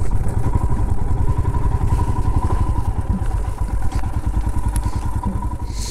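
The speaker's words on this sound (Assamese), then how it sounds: "বাইকখন ইয়াতে পাৰ্ক কৰিব লাগিব" A motorcycle on a Tawang mountain ride being parked beside Shungetsar (Madhuri) Lake, its engine idling close and loud with a steady, rapid throbbing pulse and light mechanical clatter, no talking.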